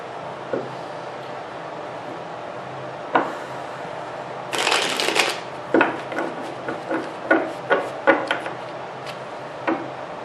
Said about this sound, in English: I feel like cutting the deck one time